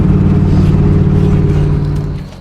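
A Whipple supercharged 3-valve Ford Mustang with a manual gearbox holds a loud, steady, close engine drone with deep rumbling tones, easing off slightly near the end.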